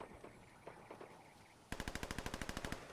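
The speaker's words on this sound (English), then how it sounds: "And there's gunfire to my right." A rapid burst of automatic gunfire, about a dozen evenly spaced shots, follows a stretch of quieter muffled Fortnite game ambience and scattered distant pops.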